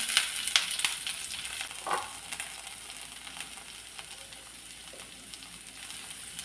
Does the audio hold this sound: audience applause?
no